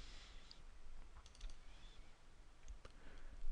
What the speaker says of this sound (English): let's double click on Prod 2 here